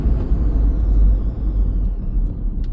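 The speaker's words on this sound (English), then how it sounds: "jump on the brakes now" Heavy low rumble of a 2016 Ford Ranger 3.2 TDCi Wildtrak pickup braking hard, with a steady road roar and a faint hiss near the end, no voices.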